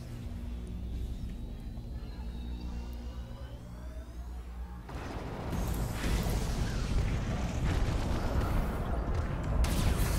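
A small spaceship gun firing in the Fractured Space video game: after a quieter stretch of steady engine hum with sweeping tones, a rough, continuous barrage of crackling shots and rumbling impacts kicks in and keeps going loudly to the end.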